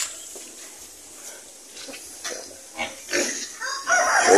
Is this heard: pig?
yes